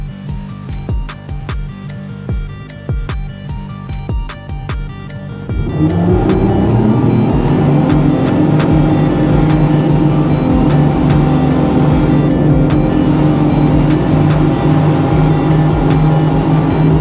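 A boat's engine at the Seakeeper Ride install powers up to a loud, steady drone as the craft pulls away from the dock. Quieter background rumble comes first, then the engine jumps to a sustained, strong hum that holds to the end.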